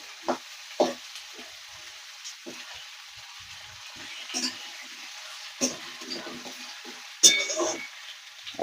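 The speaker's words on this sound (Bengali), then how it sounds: "এটা একটু ঢাকা দিয়ে দিয়ে আমরা ভেজে নেব।" Flat beans and potatoes fry in a pan for a Bengali shim aloo curry, a soft sizzle running throughout, broken by scattered clinks and scrapes of stirring and lid handling, with a voice faintly present.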